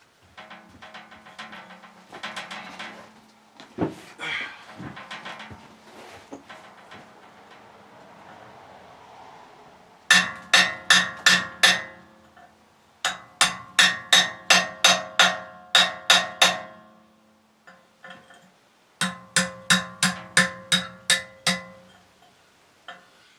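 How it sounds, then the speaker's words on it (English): Rapid metallic blows of a ball peen hammer strike a cold chisel in several bursts of about eight to ten ringing hits each, loud and close, with pauses between bursts, while taking apart a sawmill carriage. "now I'll get a cold chisel and a ball peen hammer, see if I can't open that up"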